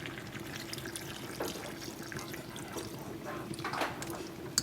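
Water from a tap pouring into a pot of goat meat for a Jamaican dish, a steady, faint running splash that continues throughout the clip, with no talking.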